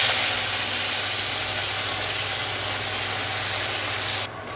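Fenugreek leaves dropped into hot oil with black cumin seeds, giving a loud, continuous hiss and sizzle up close that cuts off sharply near the end.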